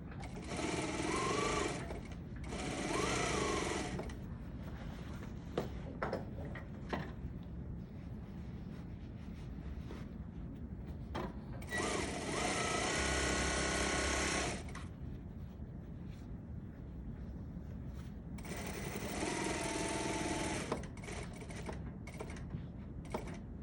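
An overlock sewing machine stitching the in-seams and out-seams of a pair of jeans, running in four loud bursts of steady whirring with quieter handling and fabric noise between them.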